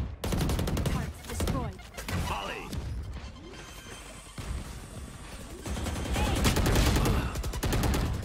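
Rapid bursts of gunfire spray in a competitive shooter video game, with clusters of sharp shots, impact cracks and a lull before a louder sustained volley, while players talk faintly underneath.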